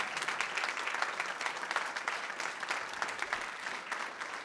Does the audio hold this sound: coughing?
no